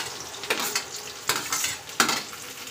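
Onion and capsicum frying in a pan for macaroni, soft sizzling broken by three distinct bursts of stirring and spoon scraping against the pan, fairly quiet and close.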